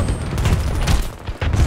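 Dense gunfire from a Battlefield 2042 battle, a continuous loud fusillade of overlapping shots and booms with brief dips, filling the whole moment without speech.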